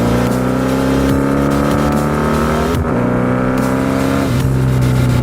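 A new motorcycle engine on a break-in ride, revving moderately up and down through the gears, a loud, close, continuous engine drone with rising and falling pitch and wind rush throughout.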